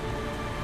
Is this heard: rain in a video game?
yes